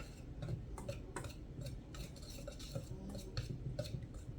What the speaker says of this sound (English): So now we're just going to whisk this together.